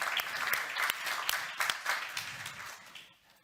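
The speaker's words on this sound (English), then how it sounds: "We should always take the time to applaud to our distinguished panelists" A short burst of audience applause at an economics conference, many hands clapping steadily at moderate distance before it fades out.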